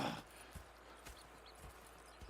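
A horse's hooves clip-clop at a slow, even walk in the Red Dead Redemption 2 video game, four or five soft, faint thuds spaced about half a second apart.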